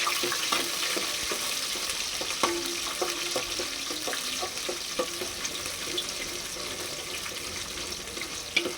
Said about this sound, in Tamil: பூண்டு நல்லா வணக்கி போட்டோம்னா அந்த எண்ணெயிலே வறுத்து போட்டோம்னா அந்த நல்லா இருக்கும்